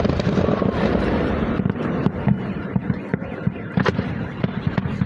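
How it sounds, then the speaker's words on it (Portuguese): Gunfire aimed at a drone in wartime Ukraine, a rapid scatter of sharp cracks and pops going off amid a continuous background roar. "O que vocês veem, ouvem esses tiros todos, é o pessoal tentando derrubar o drone na base do tiro"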